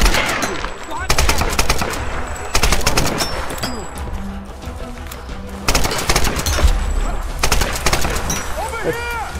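Rapid automatic gunfire bursts in the Tomb Raider video game, loud repeated volleys in several clusters with shouted voices in between.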